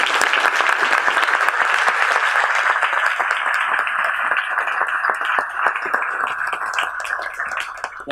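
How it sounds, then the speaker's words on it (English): A conference audience applauds the volunteers with a loud, dense, sustained burst of clapping that holds steady for several seconds before easing off slightly. "we should all take a moment to give a round of applause to the volunteers"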